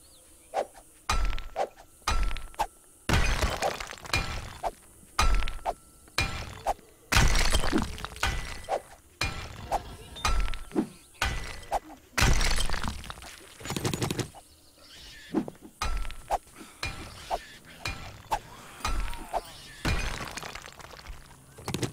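Glass panels shatter again and again in the survival game 7 Days to Die, a long series of sharp breaking and crunching impacts in irregular bursts, each one loud and close, with hard thunks between them.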